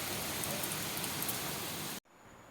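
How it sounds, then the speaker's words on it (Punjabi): Steady rain pours down outdoors with a dense, even hiss that fills the background, then cuts off abruptly near the end; no voices are heard. "ਹੁਣੀ ਤੇ ਮੀਂਹ ਲੱਗ ਗਿਆ ਜੀ ਪੈਣ ਇਹ ਦੇਖੋ ਜੀ"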